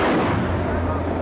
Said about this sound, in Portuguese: O caixão passou pelo batalhão de guarda do exército, que deu uma salva de tiros em homenagem a Ayrton Senna.